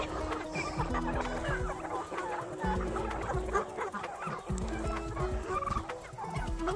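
Homestead fowl, including chickens and what sound like turkeys, cluck and gobble in a dense, continuous chorus close by, with overlapping calls throughout and no talk.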